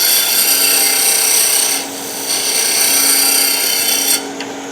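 On a wood lathe, the wing of a turning tool used like a skew shaves spinning wood in a steady, close rasping hiss, dipping briefly midway and easing off near the end.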